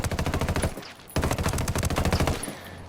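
Rapid bursts of LVOA-C rifle fire in the video game Ghost Recon Wildlands, loud and close, in two sustained strings with a short pause between them.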